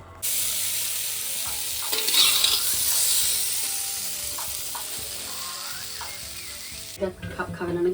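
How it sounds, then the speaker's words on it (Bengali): Mixed vegetables sizzle steadily in a hot pan on a home stove, with occasional scrapes and clinks of a spatula stirring them, close and continuous, then a brief louder clatter near the end. "সবজিগুলো ভাজা হয়ে গেছে এবারে আমি সবজিগুলোকে নামিয়ে নিচ্ছি"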